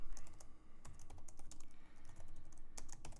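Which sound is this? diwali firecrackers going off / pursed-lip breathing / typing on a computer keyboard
typing on a computer keyboard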